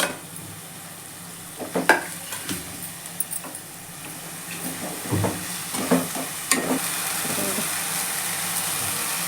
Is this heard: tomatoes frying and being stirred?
yes